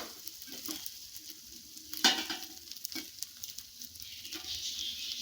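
Chettinad spicy kuzhi paniyaram frying in a pan gives a steady close sizzle with a few soft stirring scrapes and one sharper clink near the middle, with no talk.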